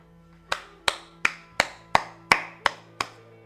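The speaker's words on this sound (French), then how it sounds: "J'applaudis, magnifique." Hands clapping eight times at a slow, even pace, each crisp clap close and distinct against a quiet background with a faint steady hum.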